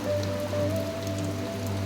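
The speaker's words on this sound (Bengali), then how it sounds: "দেখুন কত বৃষ্টি হচ্ছে।" Steady heavy rain pours down in a village and patters on a surface nearby, with a low constant hum beneath it.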